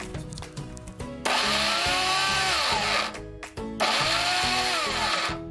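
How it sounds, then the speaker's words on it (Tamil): A kitchen mixer grinder grinds veg burger ingredients in two loud, close whirring runs with a short pause between, preceded by clattering and handling of the jar. "இதை மிக்சியில் போட்டு எடுத்துக்கலாம்."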